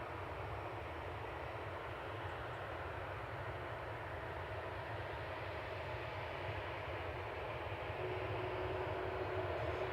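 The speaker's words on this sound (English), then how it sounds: "Jet2 departing next to Faro." A Jet2 Boeing 737-800 departs Manchester Airport for Faro with a steady, loud engine roar that holds unbroken for the whole stretch and swells slightly toward the end.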